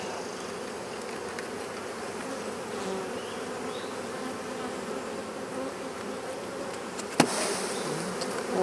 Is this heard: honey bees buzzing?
yes